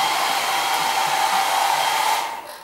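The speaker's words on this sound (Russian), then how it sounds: "Ой, фен. Нажимать на кнопку надо." A hair dryer in a hotel room blows with a steady loud whir, then cuts off near the end.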